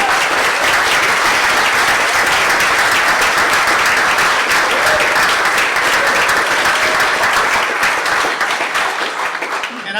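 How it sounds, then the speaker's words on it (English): Audience applause at a 2013 AGM keynote, a dense, steady wash of many hands clapping that holds loud for nearly the whole stretch before tapering slightly at the end. "you deserve another round of applause for the great work you've done"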